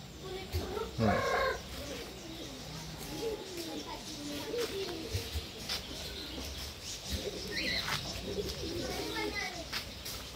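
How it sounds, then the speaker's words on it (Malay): A small Silver Sebright Bantam chicken clucks and coos close by among other birds, with people talking in the background over steady outdoor ambience at an animal park. "Silver Sebright Bantam nama dia."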